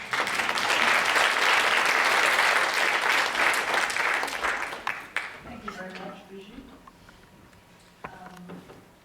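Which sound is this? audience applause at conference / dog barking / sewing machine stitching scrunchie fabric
audience applause at conference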